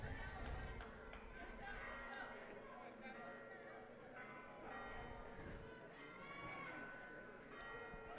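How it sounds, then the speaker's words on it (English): Church bells ringing next door during a softball regional final, faint and distant chimes mixed into the ballpark crowd murmur while a commentator talks over them. "the church bells next door are ringing"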